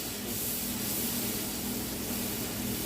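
A spiced mixture with chilli powder being sautéed in a pan makes a continuous, even, close hissing sizzle that holds steady throughout, with no talking.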